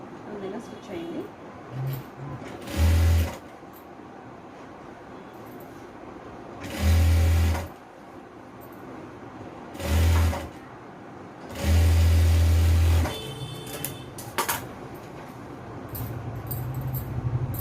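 A sewing machine stitching a simple frock runs in four short bursts of low whirring, each a second or so long, separated by pauses, while someone talks through the whole stretch.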